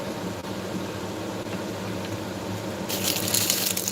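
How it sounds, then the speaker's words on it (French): Hot water from a kitchen tap, a steady rushing flow over a low hum that swells louder and brighter near the end as the stream strengthens, with no talking. "De l'eau chaude,"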